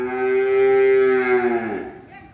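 A young cow at a cattle farm, about eight months old, gives one long, loud, close moo that slowly falls in pitch and fades near the end.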